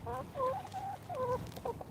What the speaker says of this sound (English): The chickens are all excited.